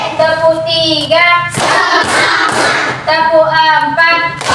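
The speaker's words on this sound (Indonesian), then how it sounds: "Ya, tepuk konsentrasi ya. Tepuk 1, tepuk 2, tepuk 3," A primary school class does a rhythmic concentration clapping routine, with children's voices chanting loudly between short, sharp bursts of group claps close by.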